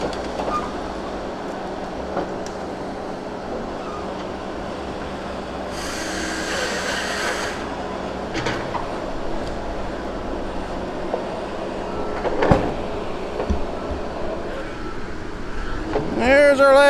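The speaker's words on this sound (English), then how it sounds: "There's our last truck for the day." A logging truck works a logging road, giving a steady, heavy rumble that holds for the full stretch with a few clanks and knocks and voices heard briefly.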